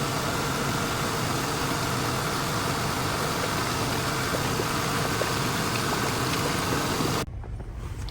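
A Lexus/Toyota 2UZ-FE V8 engine runs steadily during intake manifold work, a loud, close, continuous roar that drops off sharply near the end, with no voices.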